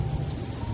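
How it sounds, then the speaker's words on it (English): A rain sound effect: a steady, dense wash of rainfall with a deep rumbling undertone, loud and continuous through the short moment, with no voices. "The rain came down."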